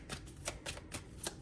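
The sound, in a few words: shuffling cards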